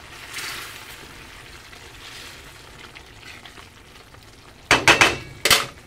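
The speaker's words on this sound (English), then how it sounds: "stir my paste" Tomato paste being stirred in a pan, with faint scraping and quiet cooking noise before a few sharp, louder clatters of a utensil against the pan near the end.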